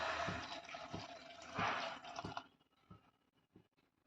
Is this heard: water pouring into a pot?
yes